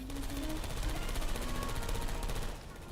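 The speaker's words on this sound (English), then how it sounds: "I heard gunfire!" Rapid bursts of automatic gunfire in the video game Portal 2, fairly faint and distant, rattling steadily for a few seconds before tapering off.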